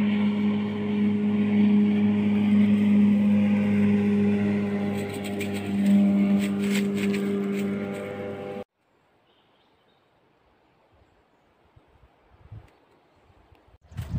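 Steady low engine drone of motorboats passing on a river, loud and continuous for about eight seconds, then cutting off abruptly to quiet outdoor ambience with faint rustles.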